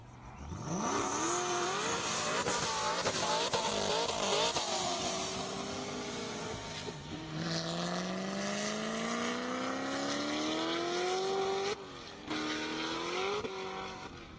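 Corvette Z06 cars, a 2015 model and an older one, racing at an airstrip drag event, with loud engines revving and rising through repeated gear shifts and brief tyre squeal, close and continuous.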